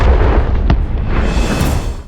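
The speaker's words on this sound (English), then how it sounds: "a massive explosion followed" A Russian tank strikes a concealed anti-tank mine, setting off a massive explosion: a loud, broadband roar that rumbles on for about two seconds, with a sharper burst partway through and no voices.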